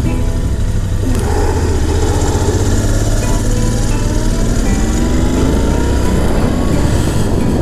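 Royal Enfield Interceptor 650 motorcycle engine rumbling steadily on an empty road on a cool morning ride, with continuous wind noise and no pauses.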